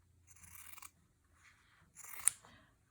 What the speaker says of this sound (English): I cut off a little piece